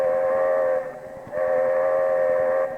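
A Lionel model train whistle sounds the release-brakes signal, two loud, steady whistle blasts separated by a brief gap, heard alone and close.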